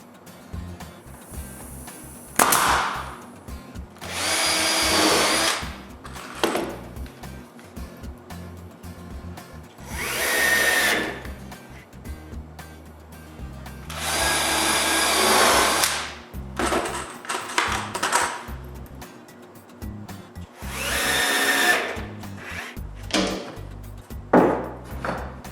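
A power drill drives screws into a wooden miter saw cabinet during assembly. The high whirring bursts repeat about every five seconds, each lasting a second or two, with quiet handling noises between them.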